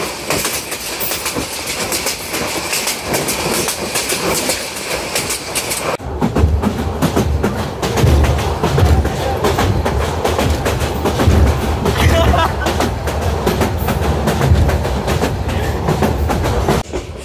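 Dhaka-bound Kishoreganj Express intercity train swaying along at high speed, heard from on board as a loud, continuous rattle and rumble that deepens into heavier low clatter partway through.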